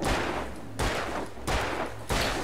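Gunfire in the video game Alan Wake, three broadband bursts in about two and a half seconds, each a sharp onset that decays before the next, loud and close with a low rumble underneath.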